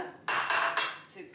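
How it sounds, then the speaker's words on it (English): Butter and sugar being mixed in a bowl with metal utensils, giving a few loud scraping and clinking bursts of cutlery against the dish in quick succession, close by. "I'm going to mix the butter and the sugar"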